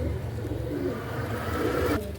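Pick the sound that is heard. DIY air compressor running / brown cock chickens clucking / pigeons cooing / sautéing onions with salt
pigeons cooing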